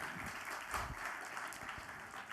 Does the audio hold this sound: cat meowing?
no